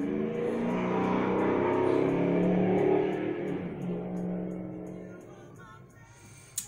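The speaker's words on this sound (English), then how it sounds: "That's that traffic I was telling y'all about." Road traffic passes outside, a steady car engine swelling and then fading as it goes by, moderately loud and with no talking over it.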